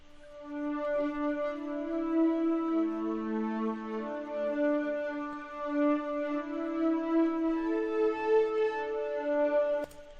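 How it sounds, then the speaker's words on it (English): Sustained, shimmering guitar chords with a soft pad-like swell, notes blending smoothly into one another at a steady, moderate level, with no voices. "I did this with my guitar with a pad effect."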